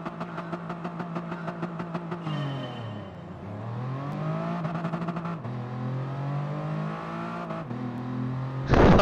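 Toyota Crown Athlete G engine in the Gran Turismo Sport racing game, revving up through gears with repeated shift dips and a falling then rising pitch, loud and alone.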